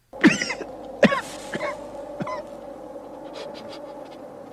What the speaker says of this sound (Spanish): el vapor de azufre le llegó a los pulmones, causándole una tos espasmódica